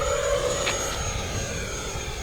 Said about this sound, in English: that's a big fast 6S jet